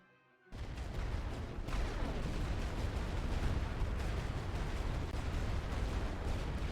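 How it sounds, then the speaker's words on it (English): Continuous artillery bombardment in the World War I strategy game The Great War: Western Front, a dense rumbling roar of overlapping blasts that starts abruptly after a brief quiet moment and holds loud and unbroken. "So I just dumped a week-long bombardment on them"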